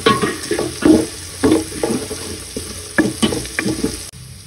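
Garlic, onion and ginger sizzle in a pan for a mussel tinola soup, with close scraping stir strokes in an uneven rhythm over steady frying.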